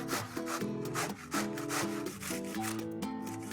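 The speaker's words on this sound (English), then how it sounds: "I'm going to grate the cabbage." Cabbage rubbed against a kitchen grater in quick repeated strokes, a close, steady scraping rasp heard alone.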